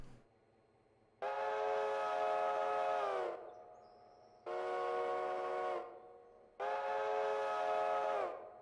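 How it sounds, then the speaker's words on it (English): Steam locomotive whistle in the Railroader video game sounds three times, each a loud, sustained chime blast of about two seconds separated by short pauses, with no talking. "Got a little shorter whistle on there."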